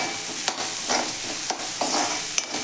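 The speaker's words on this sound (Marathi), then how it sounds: "ते छान असं आपण 1 मिनिटभर परतून घेऊयात।" Onions sautéing with spices and ginger-garlic paste for a dry mixed-vegetable dish, a steady close sizzle broken by several sharp spoon scrapes against the pan, with no talk.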